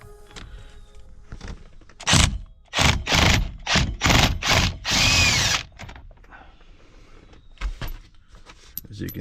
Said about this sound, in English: So I'm gonna use my impact gun.